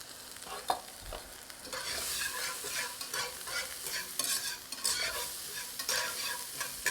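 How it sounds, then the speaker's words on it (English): Onions and peppers sweat in a pan, a soft steady sizzle with occasional scraping stirs and clinks of a utensil, close but fairly quiet, no talking. "we're just sweating these onions and peppers just until they soften a bit"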